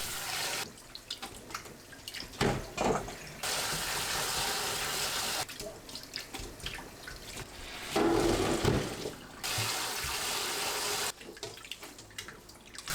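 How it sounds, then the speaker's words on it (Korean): Boiled peanuts and walnuts rinsed under cold running water, a steady rushing stream that swells and eases in long stretches, with brief breaks and some splashing and clatter in between. "삶은 땅콩과 호두는 찬물에 각각 헹궈주세요."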